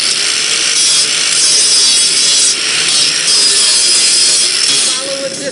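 Wood is sawn in a large theater scene shop, a loud continuous rasping that swells and eases in long strokes, filling the space with dense, hissy noise.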